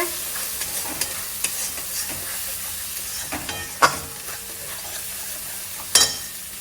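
Spice paste cooked down in oil in a pan, sizzling steadily up close while a spoon scrapes and taps the pan now and then, with a couple of sharper knocks, no talking.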